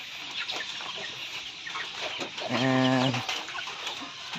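Chickens clucking nearby in a coop, with busy overlapping clucks and a rooster-like crow rising briefly in the middle.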